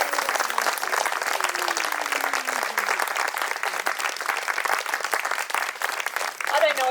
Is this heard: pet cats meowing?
no